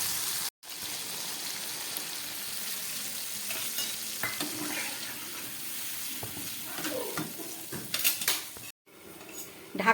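Pointed gourd curry cooking in a pan with turmeric and ground mustard paste, a steady sizzle with stirring and utensil clinks, close, with brief cut-outs near the start and end.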